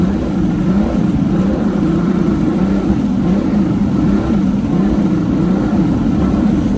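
A Mercury 200 HP outboard boat engine with a fault that makes it cut out runs at full throttle, a loud, steady droning roar that holds without pause throughout, with water and wind noise mixed in.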